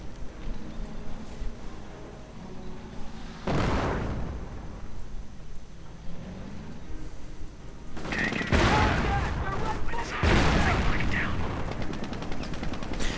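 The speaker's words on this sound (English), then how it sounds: "And there we go, anti-tank grenade." Booming blasts and crackling gunfire from a World War II real-time strategy game battle with Panzergrenadiers and Panther tanks, an anti-tank grenade erupting in sharp bursts around the eighth and tenth seconds amid ongoing rumbling combat, with a commentator talking.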